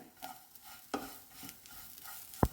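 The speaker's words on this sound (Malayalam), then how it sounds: "എള്ളൊന്ന് മിക്സ് ചെയ്ത ശേഷം" Black sesame seeds being stirred into a snack mix of puttu flour, coconut and banana, soft intermittent scraping and stirring strokes, fairly quiet, with a sharp clink near the end.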